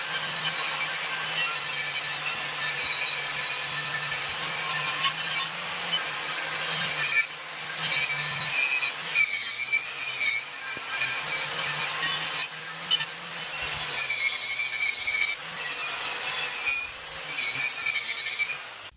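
An angle grinder fitted with a wire wheel brushes a wheel rim during rim repair, giving a steady, close, abrasive whir with a low hum underneath that rises and dips as pressure changes.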